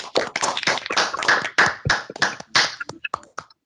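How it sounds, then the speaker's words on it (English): A handful of people clap for a speaker at a logistics networking event, with sharp, distinct claps in an uneven rhythm that thin out and stop near the end. "A big round of applause for Keely."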